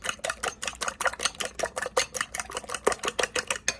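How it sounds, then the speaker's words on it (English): Two eggs whisked briskly in a bowl for French toast, the whisk ticking against the sides in a fast, steady rhythm of about four strokes per second, close and clear with no talk. "I'm just whisking them."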